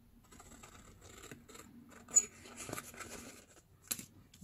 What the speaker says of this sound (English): And just fussy cut out all around.